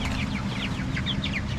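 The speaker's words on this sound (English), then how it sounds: "Hey, chickens, everyone all right?" Chickens on a flooded homestead cluck softly in a quick, busy run of short calls over a low background rumble.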